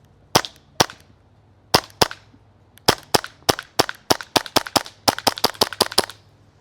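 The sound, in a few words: King Slayer AAP01 airsoft gun test firing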